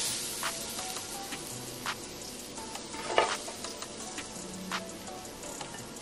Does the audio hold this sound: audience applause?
no